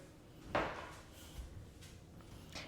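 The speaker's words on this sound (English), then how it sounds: "Close the door." A door in a newly built modern single-family home closes with one soft, quiet thud against a faint room background.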